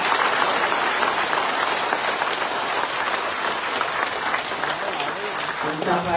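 A crowd at a community convention claps loudly and continuously, a thick sustained applause close to the microphone with a few voices mixed in beneath it.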